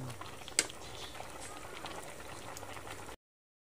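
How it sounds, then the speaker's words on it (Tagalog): Pasta boiling in a pot, a faint bubbling liquid wash with a single sharp clink of a utensil early on as it is stirred, quiet and close, no talk. "malapit na maluto yung ating pasta. Yun, halo-haloin lang natin."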